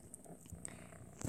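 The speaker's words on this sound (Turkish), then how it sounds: "Şu an kedi hırlıyor." A domestic cat purrs close by in a quiet room, a soft, steady low rumble that lasts the brief moment and swells slightly near the end. No one speaks.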